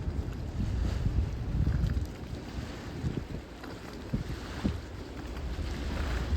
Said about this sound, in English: Pretty good wind this morning